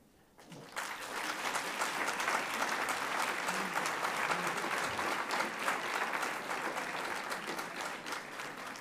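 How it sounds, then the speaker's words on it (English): After a brief quiet start, sustained applause from a large audience at a university graduation ceremony swells and holds steady, a broad even roar of clapping with faint voices mixed in. "And I think this is where you give them an even bigger applause at this point."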